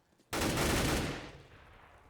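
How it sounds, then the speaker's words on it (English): Gunfire from an M4 and UMP in a competitive Counter-Strike match on the Train map, a sudden loud burst of rapid shots that cuts in sharply and then trails off into a fading echo. "that M4 could be lost soon unless World Edit can deal their damage with his UMP, which he does by getting a kill"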